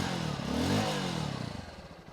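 A Honda XR150 motorcycle with a large muffler idles and briefly revs, a soft, muffled low engine note that rises and falls before settling into a gentle putter.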